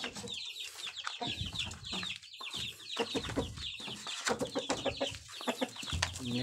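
Kampung chickens, hens and roosters kept for breeding, cluck steadily and overlapping inside a coop at feeding time, close and busy with no talk.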